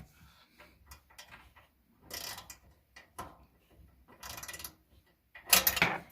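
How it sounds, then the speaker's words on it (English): A 1/4-inch drive ratchet turns a socket while tightening a part inside a gas dryer. It gives several separate bursts of close, quiet clicking with small metallic handling knocks between them. "very carefully tighten it up with our 1/4-inch size socket on my 1/4-inch drive ratchet"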